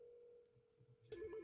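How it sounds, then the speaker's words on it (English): Dialing an extension on a desk telephone: a steady tone holds for about a second before a burst of keypad tones, close and clear, with no talk. "I can just dial Kyle's extension if I know it, and I can connect it that way and hit transfer"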